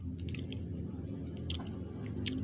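Someone chews a crunchy Nissin cheese wafer up close, with soft squishy chewing and a few sharp crisp crunches spread across the moment, and no speech.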